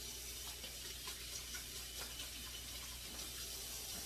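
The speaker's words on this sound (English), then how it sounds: "Sophia, would you wash your hands so you can put these apples in there with the rest of them, please?" Kitchen tap running while hands are washed during apple pie preparation: a steady, even rush of water hiss with no break and no voices.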